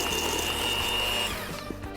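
A motorized electric kitchen mixer creaming Crisco shortening and sugar whirs steadily up close, its pitch shifting slightly before winding down near the end.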